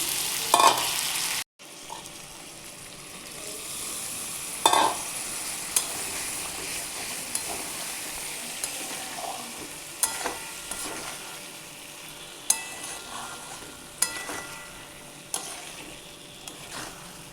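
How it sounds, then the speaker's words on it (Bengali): Chicken curry sautéing in a pan gives a soft continuous sizzle, broken by a brief cut near the start and by several sharp spoon scrapes and taps against the pan. No voices. "ভালো করে কষবো, তারপরে জল দেব একটু"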